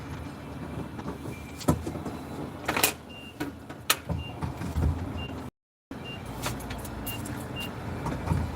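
Car engine idling on a cold morning, heard from inside the vehicle as a steady low hum, with scattered clicks and soft electronic chimes.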